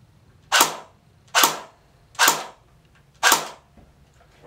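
A CYMA CM050 airsoft AK with gas blowback fires four sharp single shots spaced about a second apart, each a loud close pop with a quick decay into quiet.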